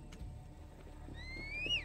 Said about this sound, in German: Vielleicht kommt es, wenn ich pfeife.